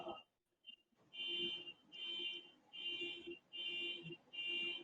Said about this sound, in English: Also learn how to turn your car alarms off quicker.